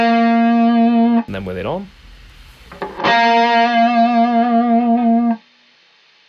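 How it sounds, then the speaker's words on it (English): Electric guitar playing the Bohemian Rhapsody solo through a treble booster pedal: bright, distorted sustained notes ring out, stop briefly while someone speaks, then resume as a long held tone. "let's turn the treble booster back on"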